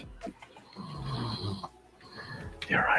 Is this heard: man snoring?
yes